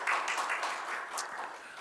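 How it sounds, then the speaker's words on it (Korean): Brief applause from a church congregation at a Sunday service, a short burst of many hands clapping together at moderate volume, fading slightly toward the end. "우리 큰 박수로 환영하겠습니다."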